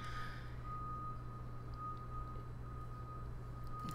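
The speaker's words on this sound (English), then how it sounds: "Well, I guess the beeps are not going to stop" A steady electronic reversing beep sounds from a vehicle at a New York construction site, continuous and moderately distant, over low engine rumble and traffic noise.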